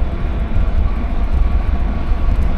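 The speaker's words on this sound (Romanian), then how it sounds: "ne depășește și trenul acum" A train overtakes on a nearby railway beside a road in Slovenia, heard as a steady, loud low rumble of rolling wagons that holds constant throughout.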